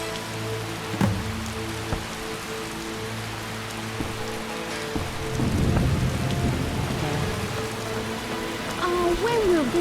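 Rain and thunder in the video game The Witcher, a constant wash of rainfall with a low rumbling roll of thunder swelling midway and faint game sounds beneath.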